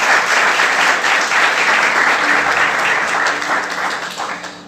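A church congregation applauds together, sustained loud clapping from many hands that holds steady and then tapers slightly toward the end.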